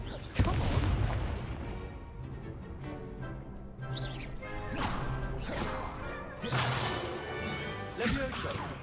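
Spell effects from Hogwarts Legacy: a sharp crack near the start, then several whooshing, booming blasts every second or so over game background, with a voice casting spells between the impacts.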